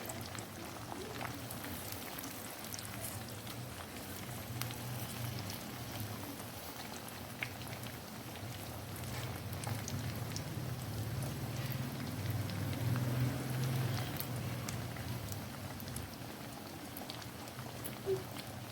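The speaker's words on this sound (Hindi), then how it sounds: "तो व्यूअर्स जब तक कि अब ये हमारे बैंगन फ्राई होते हैं" Aubergines frying in hot ghee in a pan, a steady soft crackling sizzle that swells slightly midway, close and unbroken, with no talking.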